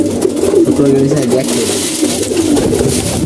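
Pigeons at a pigeon keeper's loft coo loudly and close, overlapping throaty calls repeating throughout the short stretch amid rustling background noise.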